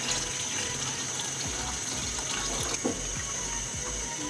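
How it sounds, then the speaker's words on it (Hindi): Water runs steadily from a tap or pitcher into a pot of kadhi made with besan, a continuous close splashing pour under a constant hiss. "मजीद इसमें 5 कप और पानी जाएगा।"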